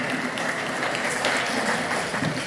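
Dense applause from an audience at a Pakistan Independence Day celebration, steady and sustained, with many hands clapping together throughout.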